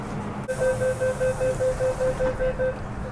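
A Hong Kong metro train at the platform: a low rumble with a rapid series of regularly spaced door-warning beeps, close and clear, with no talk.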